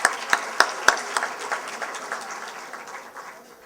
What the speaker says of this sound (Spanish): Así que un aplauso para ellos también